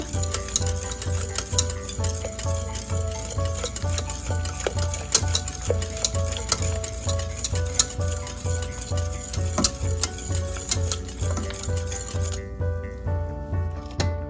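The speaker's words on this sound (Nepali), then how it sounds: "अब टमाटर राखेर यसरी यसलाई चलाउँदै चलाउँदै एकछिन पकाउनु पर्छ" Homemade tomato puree cooks in a pan with a continuous sizzle, and a spoon stirs it in a fairly regular rhythm of scraping strokes throughout.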